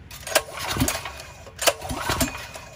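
Two pulls of the recoil starter on a Predator GX200 clone small engine with its spark plug removed, each a sharp snap followed by a rattling whir, with no engine catching.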